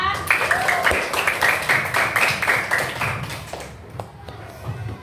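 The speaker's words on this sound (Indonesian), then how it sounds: "Tepuk tangan untuk Aira" Schoolchildren in a primary classroom clap for a classmate, a brisk burst of many small hands close by that fades after a few seconds, leaving the room quieter with faint voices.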